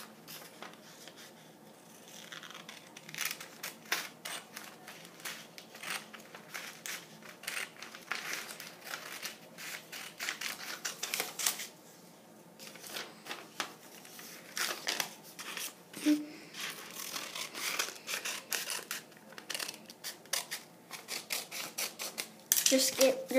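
Scissors cut paper into squares at a crafting table: repeated crisp snips and rustling paper handling, close and fairly busy throughout, with occasional louder crinkles.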